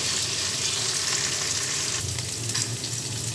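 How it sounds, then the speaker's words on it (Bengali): Potatoes and Malabar spinach stems fry in hot oil in a pan, giving a dense, steady sizzle with crackling throughout and a slight stir partway. "সেম প্রসেসে আলু এবং পুঁই শাকের ডাঁটিগুলোকেও আমি ভেজে নিব"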